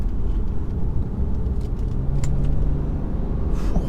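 A 2014 BMW 530d with 132,000 miles accelerates at full throttle out of a corner, a steady low engine drone heard from inside the cabin, with a rising tonal note partway through.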